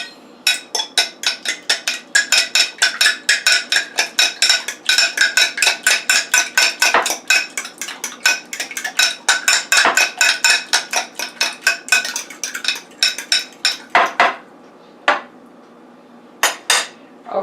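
A whisk or fork beating quiche filling with mustard in a bowl, rapid metallic clinks repeating several times a second, close and loud, continuing steadily before slowing to a few scattered taps at the end.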